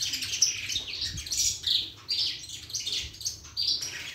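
Birds chirp and tweet repeatedly near a coleiro (collared seedeater) cage in a breeding aviary, with bright, busy calls overlapping throughout and no talking.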